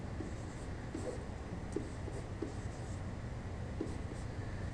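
Pencil scratching out arithmetic calculations on paper by hand, faint repeated strokes in short bursts under a steady room hiss, no talking.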